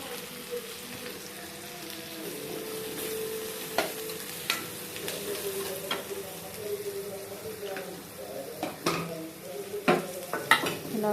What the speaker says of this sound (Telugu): తర్వాత ఈ కరివేపాకును వేయాలి.